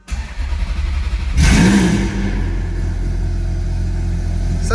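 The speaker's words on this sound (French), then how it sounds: "430 Scuderia avec le Capristo qui fait pas mal de bruit" A Ferrari 430 Scuderia fitted with a Capristo exhaust starts up inside a garage, firing with a sharp loud burst and then settling into a deep, steady, throbbing idle that holds close and strong.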